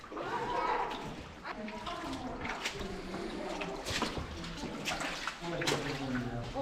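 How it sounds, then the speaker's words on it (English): Feet wade and slosh through cold, deep water inside a cave in Kings Canyon or Sequoia National Park, soft splashing and trickling that echoes close by while excited voices talk over it. "finally my feet are in the water"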